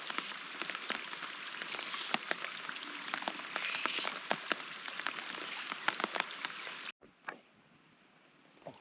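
Night rain pours steadily on a riverside net-fishing spot, a dense hiss with sharp drop ticks that cuts off abruptly near the end, leaving only sparse faint drips and a couple of knocks.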